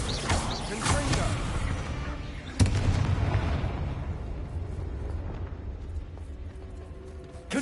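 A Confringo spell explosion in the video game Hogwarts Legacy sounds as a sharp blast followed by a rumbling, decaying boom, amid other loud game effects and a voice at the start.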